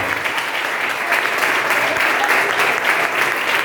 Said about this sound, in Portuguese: Aplauda Jesus mais forte